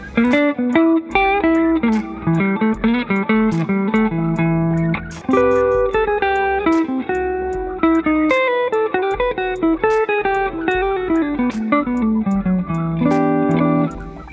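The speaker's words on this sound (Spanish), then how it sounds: "Vamos a añadirle algo de reverb y delay." Clean-toned electric guitar in BIAS FX with a Blues Driver distortion model plus reverb and delay, playing a continuous neo soul line of plucked notes and chords with a lingering ambient tail, alone and without talk.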